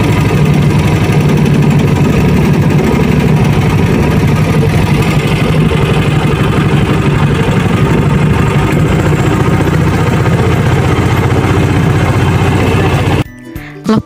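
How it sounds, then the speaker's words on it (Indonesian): A small wooden boat's engine drones steadily and loudly while crossing the Rawa Pening swamp, a constant close chugging hum that cuts off abruptly near the end. "kita akan naik sebuah perahu kayu seperti ini, perahu kecil"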